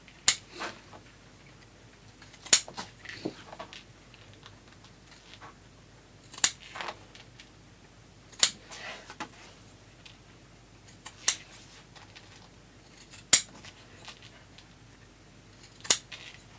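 Scissors snip through velvet in sharp, separate cuts every couple of seconds, close and crisp against a quiet room.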